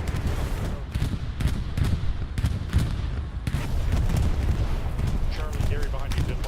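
Tank cannon fire and other battlefield explosions from the World War II shooter Hell Let Loose, a series of loud booming blasts over heavy constant combat noise, with voices talking over the din.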